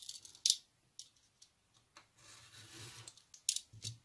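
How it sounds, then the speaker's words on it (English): A knife slices through paper for a junk journal, giving short, scratchy rasping strokes in an irregular rhythm. The strokes are close but quiet, with brief pauses between cuts. "I'm cutting it with a knife."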